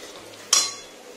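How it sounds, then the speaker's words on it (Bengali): A single metal utensil strikes and scrapes a pan while spice masala for chicken curry is sautéed, one sharp clink that fades into a soft sizzle, close by, with no voices. "মশলাটা প্রায় কষানো হয়ে গেছে, এবারের মধ্যে চিকেনটা অ্যাড করব।"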